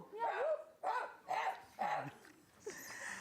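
A person imitates a Doberman, giving four or five separate yipping barks with brief pauses between them, fairly close and clear.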